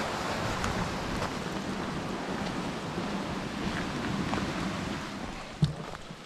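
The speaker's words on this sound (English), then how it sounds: "white water. Very loud around here. It's all you hear as we're walking is just the river." Raging white water in a West Virginia river rushes with a broad, constant roar, steady and moderately loud nearby with faint wind noise and a brief knock near the end.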